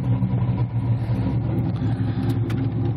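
C5 Corvette engine running with a low steady rumble and slight rises in revs, close by and continuous, no voices.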